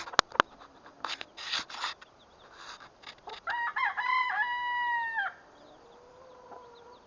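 A few sharp knocks, then hens cluck nearby before a rooster crows loudly once, a long drawn-out call, followed by quieter clucking.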